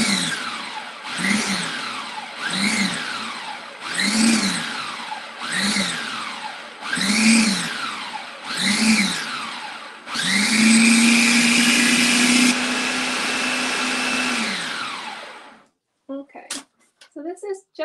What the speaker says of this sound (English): loud noise warning, obviously, with the food processor